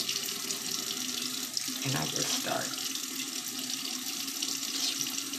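A tap runs barely warm water for washing a chick with a pasty bottom, a steady close rush of flowing water throughout, with a person briefly speaking over it.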